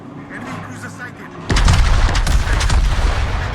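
Rapid bursts of gunfire erupt suddenly and continue loudly in a dense rattling barrage, with a voice speaking over the shots.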